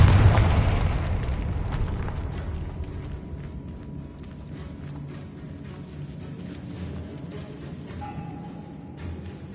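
In the Hogwarts Legacy video game, a Confringo fire spell bursts in a decayed catacomb with a loud booming explosion that fades into a long rumbling tail and quiet ambience.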